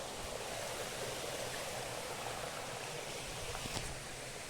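Spring water gushing out of the ground beside rice paddy fields, a steady, soft rushing and splashing with no voices over it.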